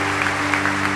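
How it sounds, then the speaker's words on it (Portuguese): Brief, dense applause from a church congregation fills a worship service, constant clapping layered over held musical tones from the band. "Salva de palmas para o Senhor."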